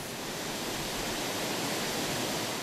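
A steady, rushing roar of a waterfall in the Republic of Adygea, Russia fills the whole clip, broad and constant with no pauses.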